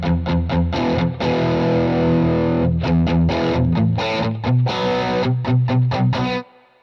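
Electric guitar played through an amplifier's classic channel in a Les Paul versus Strat tone comparison, with loud, driven chords and riffs ringing continuously for about six seconds before cutting off, no talking.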